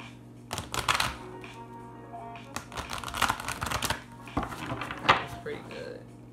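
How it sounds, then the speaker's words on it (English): A deck of tarot cards is shuffled close by in several quick, papery bursts, with short pauses between them over a low steady hum. "We need a pretty good shuffle."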